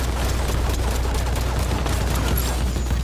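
Rapid explosive gunfire and blasts from a Halo 5 Warzone match, a dense continuous barrage of shots and booms that stays loud throughout.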